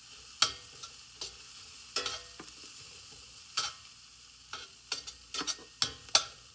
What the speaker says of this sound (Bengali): আস্ত সরিষা। একটু নেড়ে ছেড়ে ভেজে নেব।